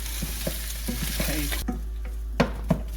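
Minced beef browning in a hot pan for cottage pie, sizzling steadily while a utensil scrapes and stirs it in repeated strokes, with a couple of sharper knocks near the end.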